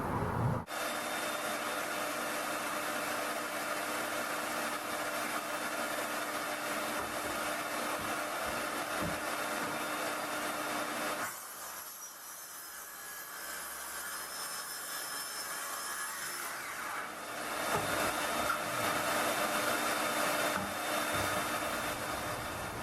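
A power saw cuts through plywood sheets laid on sawhorses with disposable inserts. It gives a loud, sustained roar that eases into a quieter lull midway and then builds back up to full cutting noise.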